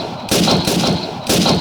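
Two loud, close M1 Garand rifle shots from a Battlefield mod in Minecraft, each a sharp blast with a short rolling tail, about one second apart.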